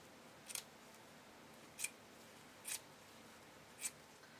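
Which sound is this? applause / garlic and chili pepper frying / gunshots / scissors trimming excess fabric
scissors trimming excess fabric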